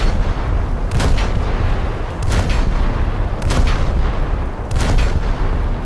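An automatic naval gun on the U.S.S. Asheville in War Thunder fires rhythmic heavy booms about once every 1.2 seconds, loud and close over a constant rumbling engine and sea background.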